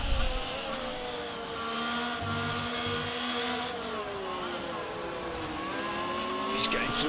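Formula 1 cars, a Ferrari chasing an Aston Martin, in the racing game F1 22, with a steady high engine whine that shifts pitch as the cars run close together, continuous and fairly near, with a commentator talking over it.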